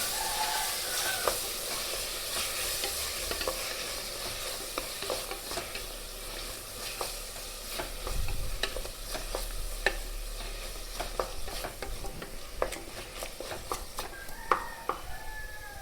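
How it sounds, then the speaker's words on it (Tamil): Onions and tomatoes sautéing with ginger-garlic paste for pepper chicken, a steady close sizzle broken by frequent scraping stirs of a spoon against the pan, with no talk. "அப்புறம் வெங்காயம் தக்காளிலாம் போட்டு நல்லா வதக்கணும்"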